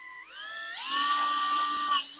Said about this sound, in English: Now with acrylic, you want to make sure you drill and tap it.